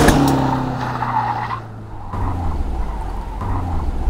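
A turbocharged Subaru WRX STI hatchback roars under hard acceleration with a rising, pulling note and a brief tire chirp, loud and close, no voices.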